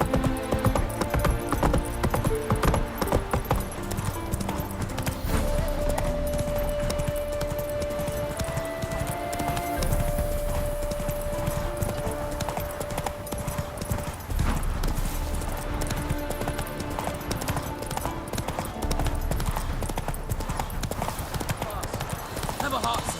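The horse Roach from The Witcher 3 gallops with rapid, rhythmic hoofbeats clip-clopping throughout, mixed with game music and occasional voices talking over it.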